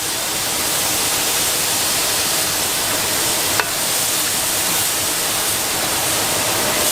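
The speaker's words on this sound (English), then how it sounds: "We're going to open one of your boxes of chicken broth. Pour that in there." A steady, loud rush of boxed chicken broth pours continuously into a hot pot for gumbo, a broad hissing splash with one brief click midway.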